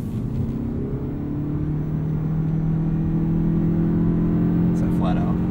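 A 2023 Lexus UX 250h F Sport hybrid with AWD and 181 horsepower accelerating flat out, a steady droning engine and tyre rumble from inside the cabin that rises slightly in pitch, with voices briefly heard.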